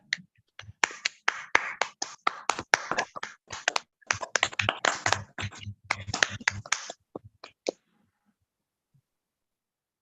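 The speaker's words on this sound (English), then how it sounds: "Let's clap." Scattered claps and snaps from an online audience after an award is announced, close and uneven, in irregular bursts that stop abruptly into silence.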